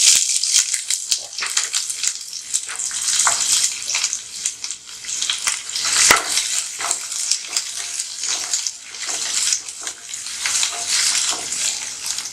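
Onions sauté in a pan for onion chutney, giving a loud, continuous hissing sizzle up close that swells and fades slightly with movement.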